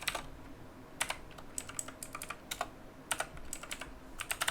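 Typing on a computer keyboard while writing Go code, with bursts of quick clicking keystrokes close by, separated by short pauses.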